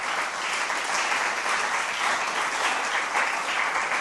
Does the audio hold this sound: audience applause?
yes